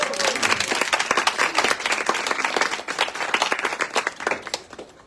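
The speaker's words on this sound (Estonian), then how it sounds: "alustuseks üks aplaus." An audience applauds the author at a book launch in Tallinn, with dense, steady clapping from a roomful of people that holds for several seconds before thinning toward the end.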